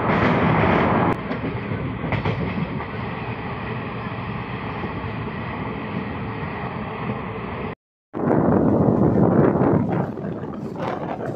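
A Santragachi–Tambaram weekly superfast express with ICF coaches runs along the rails, a loud, steady rumble and rattle heard from on board, with a brief dropout and renewed louder clatter near the end.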